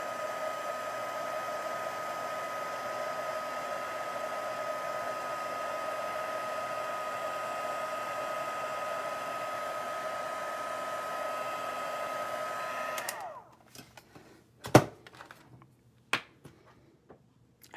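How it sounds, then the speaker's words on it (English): A handheld heat tool blows a steady, loud whirring hiss over embossing powder for about thirteen seconds, then switches off and winds down, followed by a few sharp clicks and taps. "heat tool to heat it"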